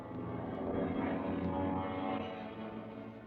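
Propeller aircraft engines drone overhead as warplanes fly past in a WWII radio drama, a loud, steady roar that swells through the middle and eases slightly toward the end, with no voices.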